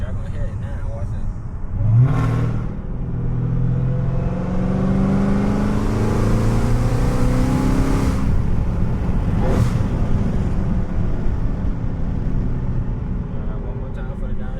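A Dodge Hellcat engine revs and pulls hard, a loud sustained roar with rising harmonic sweeps, heard from inside the car with a voice talking over it.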